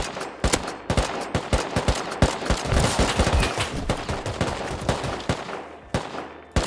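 Rapid bursts of gunfire in the game Rust, loud and sharp shots in quick succession with brief pauses between volleys.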